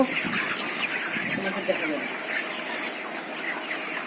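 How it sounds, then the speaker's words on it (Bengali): Chickens in a large poultry farm shed cluck and chatter in a dense mass, moderately loud and continuous, with a voice talking over them at the start. "সে একটি নতুন পোলট্রি মুরগির খামার করেছে বড় একটি শেড করেছে"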